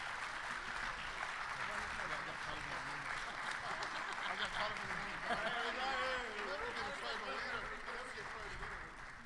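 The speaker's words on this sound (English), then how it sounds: "Let's give her a round of applause." Applause from a seated audience at a Native American caucus meeting during the Democratic National Convention greets Phoenix's mayor as she comes up; a steady, moderately distant wash of clapping lasts throughout with a murmur of voices beneath.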